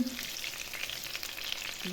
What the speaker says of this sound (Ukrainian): І так от смажуємо з двох сторін.